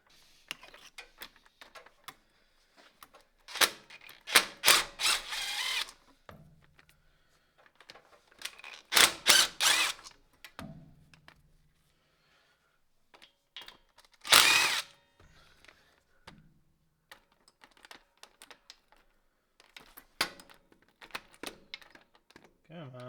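A socket ratchet pulling glow plugs from a Kubota engine, with bursts of rapid clicking ratchet strokes separated by pauses, close and distinct in a quiet workspace.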